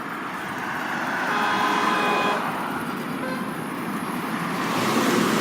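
Cars and trucks pass on a road at night with steady traffic roar and a brief horn toot mixed in, heard close from the roadside during a bicycle ride.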